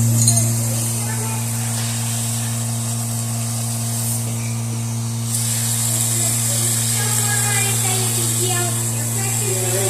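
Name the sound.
Vevor 2024 oil-free air compressor running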